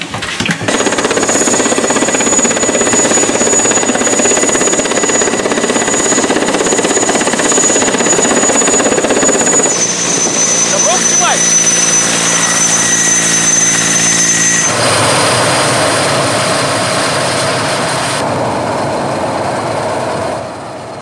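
A helicopter's loud engine whine and thumping rotor drone steadily close by, with the tone shifting slightly partway through; no voices.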